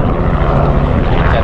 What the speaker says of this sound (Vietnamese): trực thăng lên đây